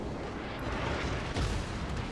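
Warship guns firing armor-piercing shells at a Gearing destroyer in the naval game World of Warships: dense, continuous rumbling gunfire with a heavier boom landing midway, no voices.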